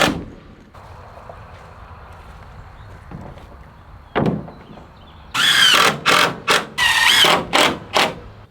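Cordless driver sinking screws with a T25 bit into 1x6 boards, a few short bursts of whirring followed by several rapid loud pulses, close up and without speech.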